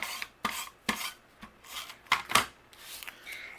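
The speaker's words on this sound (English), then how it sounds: "I'm going to add some adhesive behind here." Adhesive being applied to the back of paper bookmarks for a card, giving soft, quiet rasping and rubbing strokes in a series of short bursts with brief pauses between them, close by and without talk.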